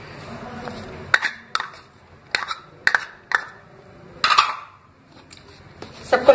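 A spoon clatters and scrapes against a bowl as spices, green chilies and ginger-garlic paste are mixed into a sattu kachori filling, with a series of sharp, close knocks separated by short pauses.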